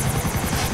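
Helicopter rotor in GTA IV: The Lost and Damned on Xbox 360, a brief burst of loud, rhythmic blade thumping over a droning engine, heard alone without speech.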